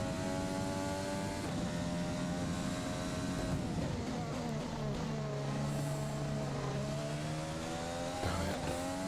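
Formula 1 car engine in the racing game F1 2020 at the Bahrain circuit, a loud continuous high-pitched whine rising and falling through gear changes, with tyre squeal mixed in and no talk.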